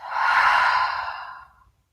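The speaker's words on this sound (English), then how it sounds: "exhale through the mouth, a loud one" A single loud, close exhale through the mouth during yoga breathing practice, a long breathy rush that fades out over about a second and a half, heard alone.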